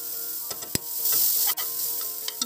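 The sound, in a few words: grated carrots sizzling in hot ghee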